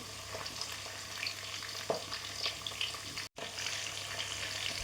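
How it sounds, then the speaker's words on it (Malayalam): Ginger, garlic and green chilli sizzle steadily in hot oil for a Kerala-style chicken curry, with occasional stirring clinks and a brief break partway through; no talking. "ചൂടായ എണ്ണയിലേക്ക് ഇഞ്ചി, വെളുത്തുള്ളി ചേർത്ത് കൊടുക്കാം."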